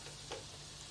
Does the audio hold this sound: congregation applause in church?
no